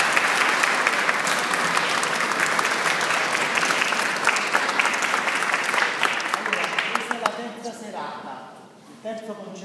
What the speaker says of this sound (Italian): Vorrei che ci fosse un applauso.